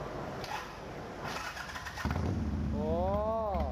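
A car engine with an exposed, open exhaust and an injected setup cranks and catches at a race show, then settles into a low idle that rises slightly, under outdoor background noise.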